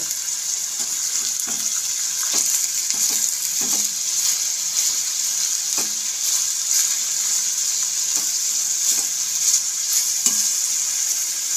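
Sliced onions sizzle loudly in hot white oil over high heat while being stirred for biryani birista, a steady dense crackle broken by repeated scrapes of a spatula against the pan, with no voices.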